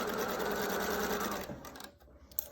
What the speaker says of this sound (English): So I'm going to stitch across this way.